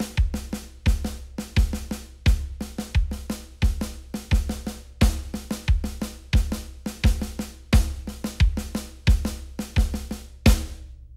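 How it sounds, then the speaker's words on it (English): An electric guitar chugs out a tight, fast riff of evenly spaced muted notes in 16th-note subdivision, repeating in a steady driving pattern, loud and close. "So the guitar riffs in a 16th note subdivision sounds like this."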